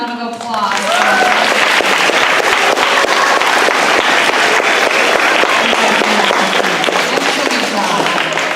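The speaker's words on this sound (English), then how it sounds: "A huge round of applause." A school audience at an elementary year-end assembly breaks into loud, sustained applause, dense clapping that swells quickly and holds steady, with a voice briefly heard at the start.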